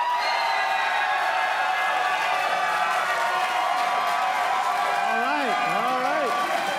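An audience at a Star Wars fan convention panel cheers and whoops loudly in one sustained, dense roar of many voices, with a few high rising whoops near the end.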